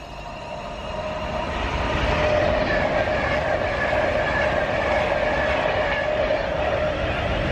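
A train passes through a station on a UK line, a loud steady rumble with rail rattle and a sustained tonal whine that swells within the first seconds and holds close for the rest, with no talking.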